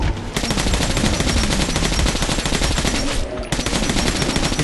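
Sustained automatic gunfire in the video game Metro 2033, loud rapid bursts of shots firing almost continuously with only a brief break near the end.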